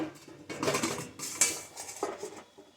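Metal idli plates are set into an idli steamer pot with close clattering and clinking of metal, in a few uneven bursts.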